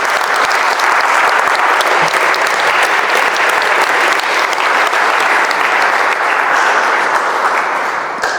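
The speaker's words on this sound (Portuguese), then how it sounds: "Deem uma salva de palmas para todos nós." An audience at a church talk on family finances bursts into sustained, dense applause, loud and close, holding steady for several seconds before tapering slightly at the end.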